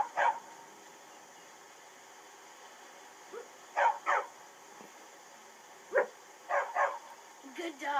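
A dog in the video game Skyrim barks in short bursts, a single yip and then paired and clustered barks at moderate distance over a steady ambient game background, with no talk over them.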